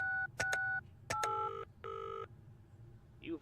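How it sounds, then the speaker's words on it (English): Touch-tone dialing beeps followed by electronic telephone ringing in the Penelope Pendrick video game: a few key tones, then several repeated ring bursts with short gaps, clear and close, no talking. "let's try calling that guy now"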